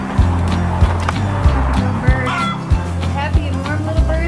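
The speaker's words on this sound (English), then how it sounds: "Happy and warm little birds in here, my goodness." Chickens in a farm barn, a flock of birds clucking and chattering close by over steady low mechanical hum and periodic thumps, with soft indistinct voices now and then.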